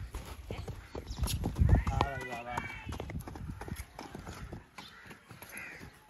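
A horse being ridden by a new rider learning to ride, its hooves clip-clopping steadily at close range, with people talking over the hoofbeats throughout.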